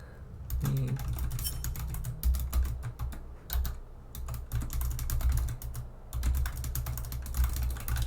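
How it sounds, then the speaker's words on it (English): A loud mechanical computer keyboard clatters under fast, continuous typing, its sharp clicky keystrokes rattling close up with only brief pauses between bursts. "You can hear my really loud keyboard. It's very clickety clacky."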